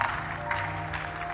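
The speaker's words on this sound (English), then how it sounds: "Clap for these fools." A church congregation claps together during a sermon, a brief burst of dense clapping over a low sustained musical tone.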